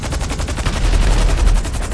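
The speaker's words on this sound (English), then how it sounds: "Stop with the fucking explosions!" Gunfire and explosions in a video game roar loud and continuous, with dense rapid bursts running without a break.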